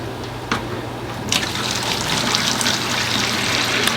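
Aquarium water drains steadily through a siphon during a tank water change, a continuous close trickling and gushing flow with a few brief splashes and no talking.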